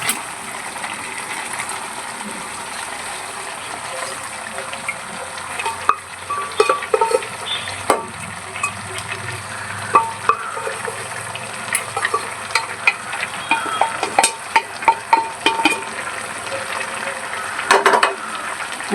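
Cooked jackfruit is stirred into fish frying in a pan. A steady close sizzle runs under repeated scraping stir strokes that grow busier toward the end, with no talk.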